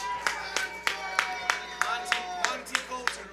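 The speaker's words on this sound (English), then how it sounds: "I need a round of applause." A single person or a few people clapping in a steady rhythm, about ten sharp, evenly spaced claps close by, over low background music, during an event drafting players for a Grass League golf team.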